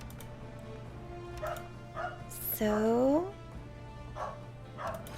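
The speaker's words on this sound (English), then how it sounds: "And those barking dogs." A dog yelps once with a sliding whine in the game Sakura Dungeon. Short, soft thuds and a low hum surround it, and a voice speaks briefly.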